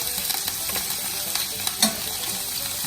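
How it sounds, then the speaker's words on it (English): Canadian ham and celery fry in a skillet with a steady, close sizzle, broken by a few soft stirring clicks and one sharper scrape near the end. "I'm gonna put that in the skillet along with celery"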